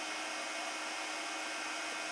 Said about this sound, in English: you have to heat it back up on your heat gun so it gets to a really glossy color